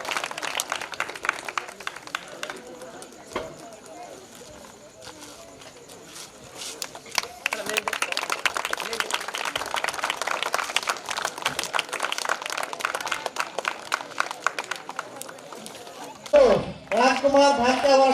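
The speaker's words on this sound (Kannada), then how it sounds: "ಎಲ್ಲರೂ ಕೂಡ ಚಪ್ಪಾಳೆ ತಟ್ಟುವ ಮುಖಾಂತರ ಅವರಿಗೆ ಶುಭ ಮಾಡಬೇಕಾಗಿ ಕೇಳ್ಕೊತಾ ಇದ್ದೀವಿ" Audience applause for an honoree at a stage event, a sustained stretch of dense crowd clapping at moderate volume, with a voice speaking over it near the end.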